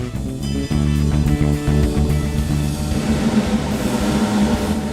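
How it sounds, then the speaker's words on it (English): Music runs through a plain hangar reverb on a Behringer WING mixer, a dense, loud mix that fills the whole five seconds and carries a long, washy tail with no talking. "A plain hangar would sound like this."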